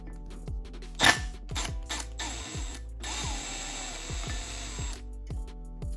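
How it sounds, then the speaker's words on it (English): Allen head screws being backed out of a Brembo six-piston brake caliper on a Subaru WRX, heard as a series of short ratcheting clicks with one sharper metallic clank and a steady mechanical hum underneath, close by and with no talk. "So all you do is take off these Allen head screws"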